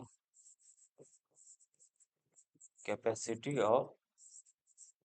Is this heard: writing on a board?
yes